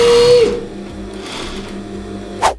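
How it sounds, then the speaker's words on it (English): A sewing machine runs a short burst of edge stitching along a fabric hem, its needle whirring for about half a second, then stops with faint clicks and a brief mechanical clunk near the end. "And then just stitch right at the edge, which is an edge stitch,"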